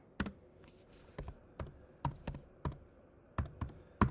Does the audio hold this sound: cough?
no